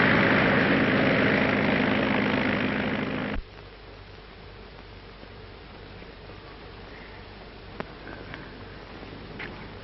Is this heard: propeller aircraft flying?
yes